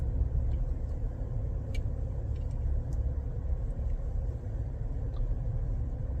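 A 2023 Chevy Traverse RS on a test drive, heard as a steady low road rumble and engine drone from inside the cabin, continuous and fairly loud, with faint ticks and no talking.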